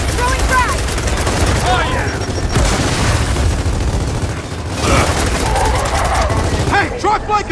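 A frag grenade going off during a Gears of War 4 firefight, its booms buried in continuous loud gunfire and heavy bursts, with characters shouting over the combat.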